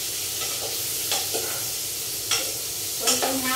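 Leftover fried fish being re-fried with onion and garlic in a pan with a steady sizzle, broken by a few scraping stirs of a utensil, no talking.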